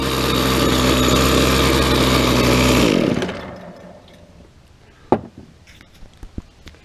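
A weed eater's small two-stroke engine holds a loud, steady high idle after a carburetor adjustment, then abruptly shuts off, leaving quiet handling clicks and taps.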